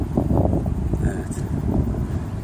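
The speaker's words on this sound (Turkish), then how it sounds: "Şu an rüzgar da var burada." Wind gusts rush and buffet the microphone on a mountain plateau, making a steady low rumble that rises and falls through the whole stretch.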